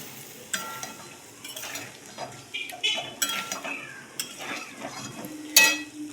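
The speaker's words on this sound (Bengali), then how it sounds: "জলটাকে দিয়ে আর একটু কষবো মশলাটা লেগে যাচ্ছিলো বলে জল দিলাম" Meat curry sautéed in a pan with a little water added to stop the spices sticking: a spoon scrapes and clinks against the metal in uneven strokes over a soft, steady simmering hiss.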